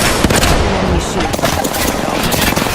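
Gunfire in the video game Apex Legends, loud rapid automatic shots and impacts in a continuous close firefight, with game voice callouts mixed in.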